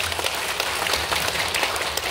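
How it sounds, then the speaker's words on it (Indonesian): Applause from an audience at a talk or seminar, steady dense clapping with no gaps across the whole stretch, moderately loud and slightly distant. "tepuk tangan dulu dong"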